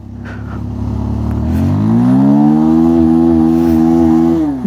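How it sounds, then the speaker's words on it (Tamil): A motorcycle engine is revved in the cold to warm it up, a close, loud rising drone climbing in pitch and holding high before dropping off at the end, with no talk over it. "இப்போ தான் வந்து பண்ணால் தான் இன்ஜின் நல்லா ஹீட் ஆகும்"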